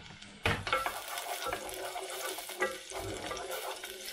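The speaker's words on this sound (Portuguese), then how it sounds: "o óleo já está quentinho, então vamos colocar aqui a nossa cebola para dar uma refogada" Chopped onion sautéing in hot olive oil as the base for a Roquefort cheese and walnut risotto: a steady close sizzle, broken by short louder bursts of stirring and scraping in the pan, with no talking.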